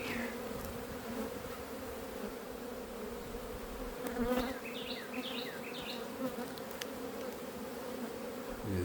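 Honeybees buzz steadily around an open hive during a spring inspection, a dense droning hum with a few louder bees passing close.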